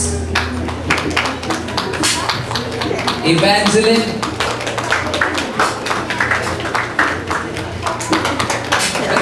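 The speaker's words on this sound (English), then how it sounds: "Let's give them a clap as they take the prize after one long year" An audience at a Sunday school anniversary clapping for prize winners, dense scattered handclaps running throughout the clip, close and lively, with a voice speaking briefly over them.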